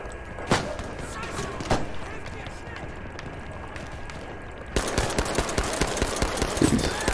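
Pistol carbine shots in Battlefield V crack out as a few isolated reports, then a quicker run of shots amid battlefield noise, with a voice talking over part of it.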